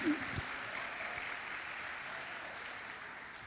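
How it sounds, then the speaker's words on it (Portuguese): Church congregation applauding during a sermon, a soft, distant, continuous patter of clapping that stays even throughout, with a brief louder knock at the start. "Vamos aplaudi-lo"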